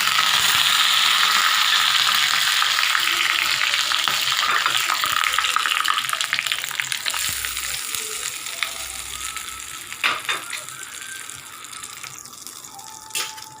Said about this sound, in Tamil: கடுகு உளுந்து போட்டு ஆஃப் பண்ணிவிட்டு நம்ம கருவேப்பிலை